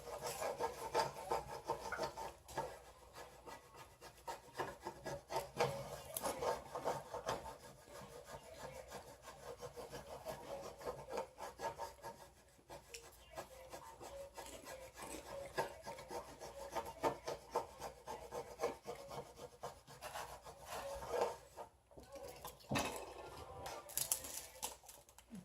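Steady rubbing and scraping on a wooden sign during sign making, a dense, continuous rasping texture that swells and dips in uneven strokes, close up with no talking.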